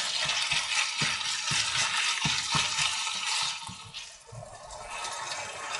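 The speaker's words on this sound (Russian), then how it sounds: "И это все обжариваем." Vegetables with tomato paste frying in a pan in a village stove kitchen, a continuous sizzle with a few scraping stirs of the utensil, close and fairly loud.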